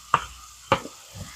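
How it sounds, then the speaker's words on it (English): Cooked potatoes being stirred into a hamburger mixture in a pan, with two distinct scraping strokes and a softer third one, close by and alone without talk. "And get those all stirred up."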